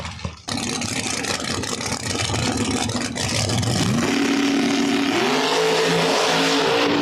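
Drag race cars at the Outlaw Big Tire finals at Virginia Motorsports Park, including a Camaro, roar loudly and continuously. Engines rev and climb in pitch as the cars launch and pull away down the strip.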